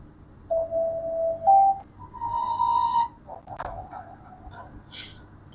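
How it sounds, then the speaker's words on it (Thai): A magic sound effect for a video edit, made of short whistly tones that slide upward and a twinkling sparkle near the end, faint and brief, with a low hum underneath. "น่าจะเป็นเสียงเวทมนต์เนาะ"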